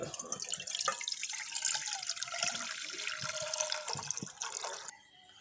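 One litre of milk poured into a pot, a steady close liquid pour lasting about five seconds before it tapers off at the end.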